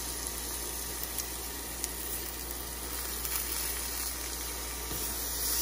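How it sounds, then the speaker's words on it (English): Pork chops sizzle on a Hot Shot indoor grill, giving a steady, soft broadband hiss with faint crackles that runs evenly throughout, close by and with no talking. "Still sizzling really good."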